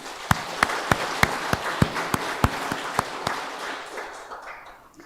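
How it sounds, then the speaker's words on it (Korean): Church congregation clapping together in a steady rhythm of about a dozen loud, sharp claps that fade into scattered applause, with no speech. "다시 한번 우리 힘찬 박수로 그들을 응원하겠습니다"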